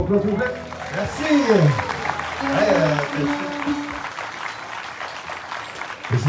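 Audience applause at a live music evening in Quebec, clapping mixed with crowd chatter and a voice talking over it, steady and fairly loud throughout.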